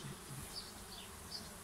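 A steady, faint buzzing hum of many bees at a hive removal, continuous and even throughout with no voices.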